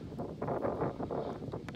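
Outdoor wind buffeting a microphone during an arrowhead hunt in Ohio, a steady low rumbling roar with gusty swells throughout, close and continuous with no speech.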